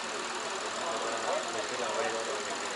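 A gasoline car engine with a three-cylinder motor idles at the Khujand car market, a steady close rumble with faint knocking that runs throughout.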